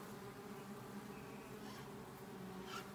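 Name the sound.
honeybee taking off from a hand near beehives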